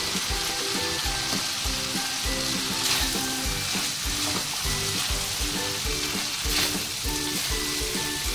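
Boiled chickpeas with slit green chillies fry in a pan, giving a loud, steady sizzle with scraping stirring strokes that repeat through the whole stretch.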